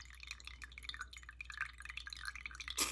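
Water drips quietly and repeatedly while a fountain pen's converter is flushed with a bulb syringe. The small drops and trickles fall in an uneven patter close by, ending with a brief louder splash.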